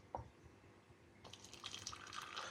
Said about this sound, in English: I just pour some hot water on it.